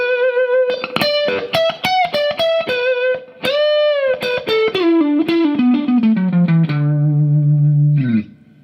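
Distorted electric guitar plays licks from a song's second solo, with sustained bent notes, quick repeated picking, and a descending run ending in a held low note, loud and alone.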